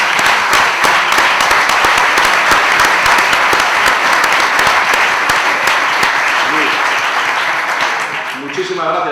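A seated audience at the presentation of an association in a hall gives sustained, dense applause for their president. The clapping is loud and continuous, then thins out near the end.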